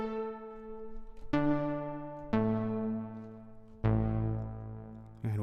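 Sustained synth-like notes played one after another with a damped reverb tail, four separate tones each starting sharply and decaying smoothly, heard alone without talk.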